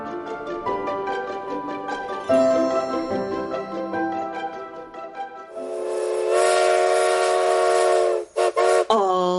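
A loud steam train whistle sounds in sustained chords that shift in pitch, swelling into a harsh hissing blast before cutting off in short final toots, with no talk.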